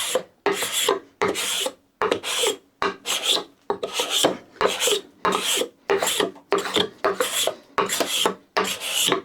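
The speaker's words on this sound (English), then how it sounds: "you can see where the cabinet scraper really excels in these sort of medium to hard timbers" A cabinet scraper is drawn across a short piece of medium-to-hard timber in rhythmic strokes, each a rasping, shaving scrape separated by short pauses. The strokes repeat steadily about once a second, close and clear.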